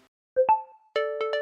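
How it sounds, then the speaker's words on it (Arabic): Trip-start notification from a Jeeny Egypt ride-hailing app: two quick rising plucked tones, then a pause followed by three clear chime strikes that ring out steadily, close and alone. "ده صوت بدء الرحلة."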